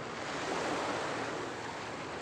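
Ocean surf rolls onto East Coast Beach as a steady, loud, continuous wash of breaking waves, with some wind buffeting the microphone and no voices.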